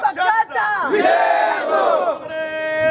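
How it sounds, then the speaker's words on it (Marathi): A crowd of Congress party workers chants slogans in loud unison, voices rising and falling in a rhythmic, rally-style cry. "काँग्रेस पक्षाचा विजय असो असे नारे सर्वत्र घुमू लागले होते"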